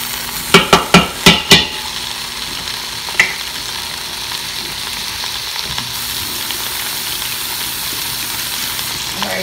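A spoon knocks sharply against the pot five times in quick succession while beef stew ingredients are stirred in a Power Quick Pot, followed by one lighter tap and then a steady, loud sizzle.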